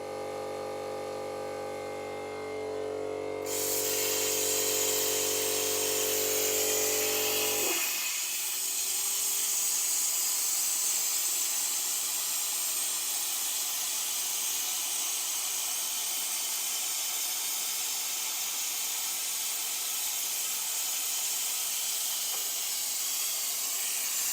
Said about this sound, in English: fire up the plasma cutter, and then press play, and that will cut out that piece of material